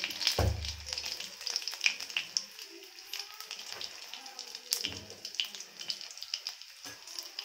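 Cumin seeds, a garlic clove, a cinnamon stick and a bay leaf frying in hot oil in a home kitchen, giving a soft, steady sizzle with light crackles and a few clinks throughout.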